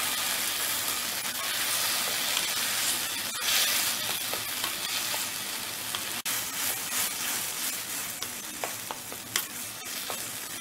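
Milk is poured into eggplant bharta frying in a pan, producing a loud, continuous, close sizzle with hissing steam and occasional scraping stirs.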